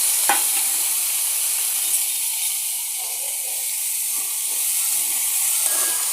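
Bitter gourd pieces frying in hot oil, a loud steady sizzle and hiss that runs continuously with light stirring scrapes.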